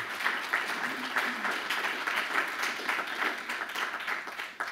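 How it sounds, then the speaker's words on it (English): An audience at a hemp research forum applauds the panelists, a steady wash of many hands clapping at moderate distance that carries evenly for several seconds before tapering. "let's give them a round of applause before we leave here"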